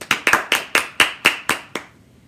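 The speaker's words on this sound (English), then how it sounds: "Let's give our guests one more big round of applause." A short run of about eight crisp hand claps at a steady, even pace, then silence. It sounds like only a few people clapping.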